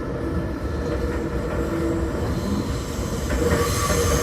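A Seibu New 2000 series train, set 2070F, on the Seibu Ikebukuro Line local service runs with a steady rumble and rail noise as it arrives at a platform, wheels faintly squealing, heard from inside the car without talk.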